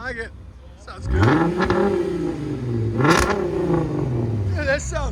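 A 2012 VW Passat with a 3.6L VR6 V6 and straight pipe exhaust revs loudly up close: a deep, raspy engine note climbs and falls through two or three blips while people talk and react over it.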